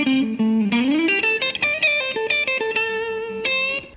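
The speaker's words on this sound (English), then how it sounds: "all that is some pentatonic stuff with the jazzy sound coming from this pull-off" A jazzy pentatonic lick on electric guitar with a pull-off, played as a quick run of clear, close single notes with slight bends and a final ringing note.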